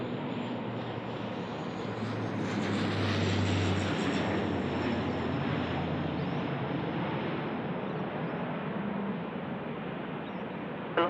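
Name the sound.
Q400 turboprop airliner on short final at Sydney Airport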